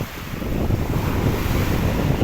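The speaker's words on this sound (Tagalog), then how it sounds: "Grabe yan, napakalakas pa ng alon." Strong waves roar continuously at Baseco beach in Manila, a dense rushing wash of water with low rumbling and wind buffeting the microphone, steady and loud throughout with no voices.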